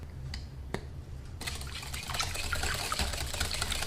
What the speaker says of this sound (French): Je vais verser du lait végétal, il est lui aussi tiède.